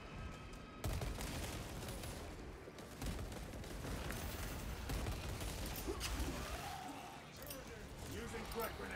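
Bolter fire in Warhammer 40K Space Marine 2, dense continuous volleys of heavy shots under ongoing combat noise and occasional voices, fairly distant and steady throughout.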